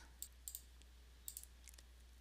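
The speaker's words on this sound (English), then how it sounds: "And I keep clicking through" Sharp computer mouse clicks come in small pairs and clusters across a couple of seconds while assessment data is entered one item at a time, close and fairly quiet, with no talking.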